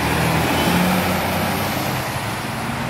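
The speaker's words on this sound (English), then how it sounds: "Truck." A truck passes on a nearby road outdoors, a steady, loud rumble of engine and tire noise filling the whole stretch without any voices.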